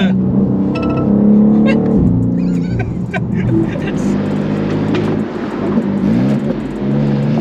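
A BMW M2 drifting through first, second and third gears, its engine revving loud and close with shifting pitch and rasping tone as people talk over it.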